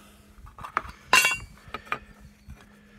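Titanium fire steel scraped against flint, making one loud bright scraping strike followed by a few fainter, shorter scrapes and clinks, close up.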